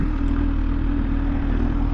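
A brand-new 2024 Kawasaki ZH2 SE motorcycle engine runs steadily at a low, even idle, its deep throb continuous and close for the full two seconds with no talk over it.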